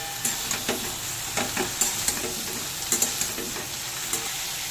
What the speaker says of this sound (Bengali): একটু নেড়ে সবজিগুলো ভেজে নেব।